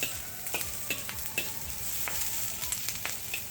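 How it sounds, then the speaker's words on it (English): Chinese broccoli stalks sizzle and crackle over extremely high heat, a continuous frying hiss broken by small sharp pops and stirring clicks, close up with no talking. "gonna smoke up the stalks of the Chinese broccoli. It's extremely high heat."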